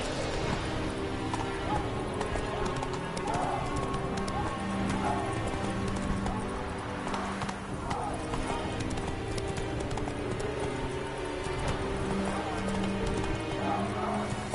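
Roach, a horse in The Witcher video game, gallops with fast rhythmic hoofbeats and an occasional whinny over a constant loud ambient game score, with a voice speaking at times.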